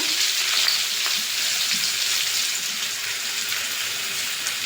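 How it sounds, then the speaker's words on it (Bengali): Butter and a dried chilli frying in hot oil, a steady close sizzle and crackle that runs without a break. "তেলে আমি আরেকটু বাটার দিয়ে দেবো। একটা শুকনো লঙ্কা দিয়ে দেবো।"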